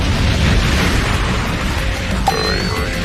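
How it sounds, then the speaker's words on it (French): A loud explosive blast effect from the My Hero Academia anime: a sustained roaring boom fills the clip, with a sharp burst and a ringing tonal sweep near the end. "Je vais utiliser le souffle d'une explosion."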